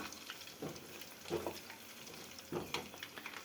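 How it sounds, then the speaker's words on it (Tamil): Chicken 65 marinade ingredients are mixed together by hand in a bowl, making soft, wet squelches and stirring sounds in quiet, irregular bursts with pauses between them. "இப்போ எல்லாத்தையும் போட்டு குழப்பிக்கலாம்"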